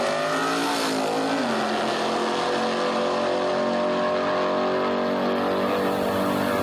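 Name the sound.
big block Chevy powered drag racing car at raceway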